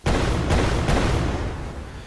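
A fire spell cast in a student-made video game bursts out as a loud, sustained roaring blast, with a couple of sharper punches layered into the two-second rush before it tails off slightly.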